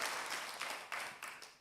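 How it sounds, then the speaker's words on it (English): Small audience clapping at a banking and ethics quiz contest, a faint brief patter of claps in a few uneven bursts that fade out. "So we can support them with a clap."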